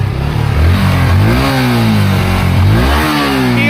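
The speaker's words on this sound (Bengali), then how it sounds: "দাদা একটু গাড়িটা স্টার্ট দিয়ে সাউন্ডটা শোনাও না।" A used 2024 motorcycle engine at a Cooch Behar second-hand showroom revs loudly and close, its pitch rising and falling through a couple of throttle blips over a steady running drone.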